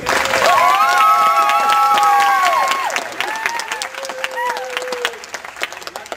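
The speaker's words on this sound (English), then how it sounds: "They're up there, so clap that way." A theatre audience at a 2009 Twelfth Night stage performance applauds the sound and lights crew with loud, dense clapping, whistles and cheers that thin out into scattered claps.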